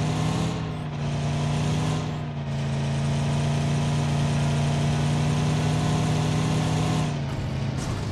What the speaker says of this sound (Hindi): मुझे एकदम से बग्गी का साउंड सुनाई देता है।